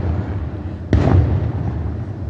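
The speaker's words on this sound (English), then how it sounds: "it's already smoke in the air when the fireworks explode anyway" Fireworks at an outdoor display in Shamokin, PA: a single sharp, loud explosion cuts through steady crowd-area background noise, then rumbles and fades briefly.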